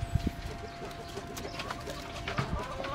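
Dekalb Brown laying hens cluck and peck during their morning feed, busy overlapping bird calls with sharp scratching thuds close by over a continuous farmyard murmur.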